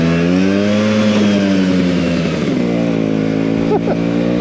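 A Vespa PX125 scooter engine, about twenty years old, droning steadily and loud through a gear change, its pitch wavering and dropping midway before settling into a lower, uneven hum.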